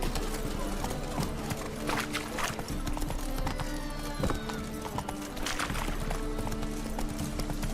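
Roach, a horse in The Witcher 3, gallops with a rapid, rhythmic clip-clop of hooves, joined by a whinny and a game soundtrack. A voice speaks over the hoofbeats.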